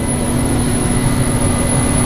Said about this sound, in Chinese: 现在飞机马上就要起飞